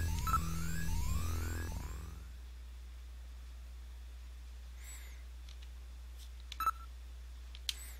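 Tones and beeps from a phone being dialed in the Sega CD game Snatcher: a layered synthetic tone sequence at the start, then a low steady hum with a few short, faint bleeps, no voices.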